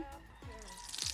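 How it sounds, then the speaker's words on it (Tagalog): Cooking oil pours into a pan while goat caldereta is being made, giving a short, faint liquid glug and drip sound that lasts about a second. "so first we'll put the oil"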